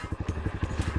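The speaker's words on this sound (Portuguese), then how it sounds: "Acelerou mais. A moto cortou agora." A motorcycle fitted with a Toro Performance exhaust revs in rapid, uneven pulses, the engine close and loud with a rough crackling burble throughout.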